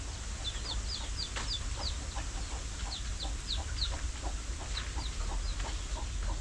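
Chickens and newly hatched chicks in a farm coop, with repeated high chick peeps and soft clucks over a constant low hum of background noise.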